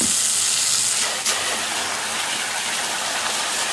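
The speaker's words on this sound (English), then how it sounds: "Now we just hose it off and get the soap and water on it." A garden hose sprays hard onto an AEM air filter, rinsing off soap and water in a loud, continuous hissing gush with a brief shift in the spray partway through and no talk.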